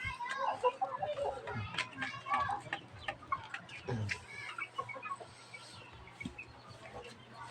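Hens cluck alongside newly hatched chicks in a backyard coop, with close, irregular clucks and chirps. Faint voices and background activity sound underneath.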